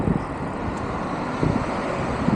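Steady roaring wind buffeting the microphone, a continuous broadband rush with occasional stronger gusts and no voices.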